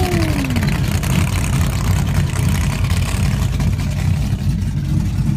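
A supercharged blower drag racing car rumbles loudly at a WV motorsports Cash Days event, its engine holding a steady, heavy idle up close with a brief falling whine at the start.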